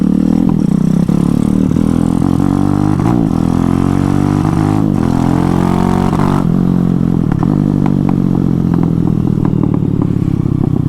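A small Honda MSX motorcycle swapped to a Zongshen 212cc engine with a free exhaust runs loud and close, its engine note rising and falling through several revs with a harsh, rattly idle between.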